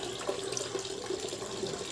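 Water draining from a tilapia tank through a PVC pipe, a steady gurgling rush with a faint hum, continuous and fairly quiet, with no voices.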